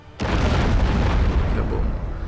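A ship ramming impact in the video game Abandon Ship: a sudden heavy boom erupts after a brief quiet moment, then a loud rumbling roar sustains and slowly fades.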